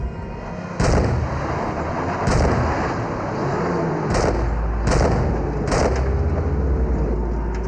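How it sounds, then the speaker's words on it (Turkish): Gunshots in a Turkish TV drama scene, five loud sharp bangs spaced irregularly over a rumbling vehicle background, close and without speech. "Çabuk silahını çek, şu adamı vur."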